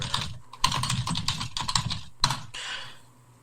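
Fast typing on a computer keyboard, close and clear: a dense run of clicking keystrokes with a few brief pauses, a sharp louder tap near the end, then a fading tail.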